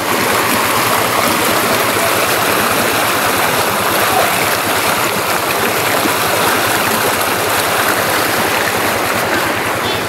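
Steady, loud rushing water of a stream pouring through a canal, a continuous close churning flow with no pause, no voices over it.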